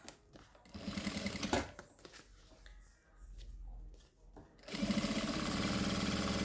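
A domestic sewing machine stitches fabric lining for a school pencil case, running in a rapid burst, pausing through quieter handling noises, then whirring steadily again at close range.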